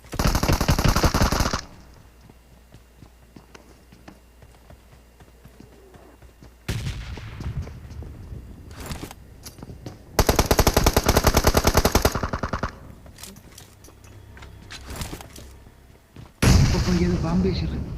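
Bursts of rapid gunfire and heavy explosion-like blasts in a PUBG-style battle royale firefight, loud volleys at the start, in the middle and at the end with quieter scattered shots and rumble between.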